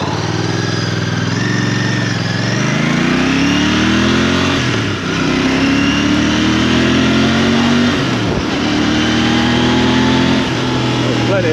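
A Royal Enfield Bear motorcycle accelerates hard on a test ride. The loud, close engine rises in pitch through the gears with short dips at each shift, and a rider talks over it.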